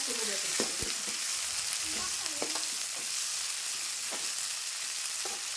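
Green chillies, onion and coriander leaves fry in hot oil, producing a bright, continuous close sizzle with a few soft stirring knocks in the pan, no voices.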